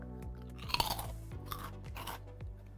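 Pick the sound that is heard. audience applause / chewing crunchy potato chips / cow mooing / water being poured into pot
chewing crunchy potato chips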